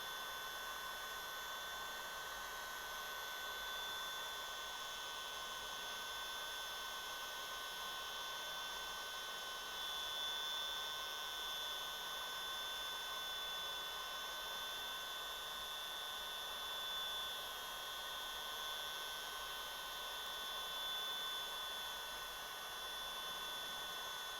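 A heat gun blows a steady, even rush of air to shrink heat shrink tubing, a constant hiss with no breaks over the whole stretch, fairly quiet and with no voices.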